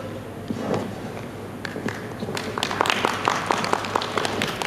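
Scattered clapping from an audience at an MLK Day celebration builds into fuller applause, a loose patter of hand claps over room hum with no clear voices.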